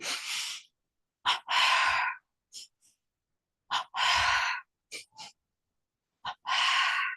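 Forceful double breathing during a neck exercise: paired short sniffs followed by long strong exhalations, repeated in a steady rhythm, close and alone with silence between the breaths.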